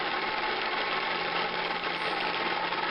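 A Hornby R782 0-4-0 Smokey Joe model locomotive motor spins on a short length of track with its buffers against a block, giving a steady, continuous whirring hum that holds even throughout.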